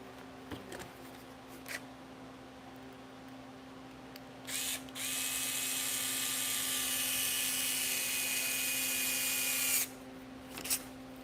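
Small power driver running a screw back into the arm of an RC car, one sustained high whir of about five seconds following faint handling clicks, fairly quiet and close.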